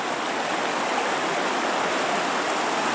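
The Razdolnaya River flows past Pokrovka village in a steady, unbroken rush of water, close and even throughout, with no voices.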